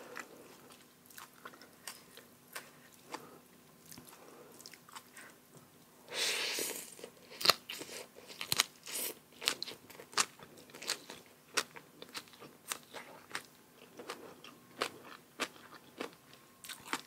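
Someone eats a crunchy, very spicy fresh shrimp salad with raw bitter melon, with close, loud bites and crisp crunches scattered through quiet chewing.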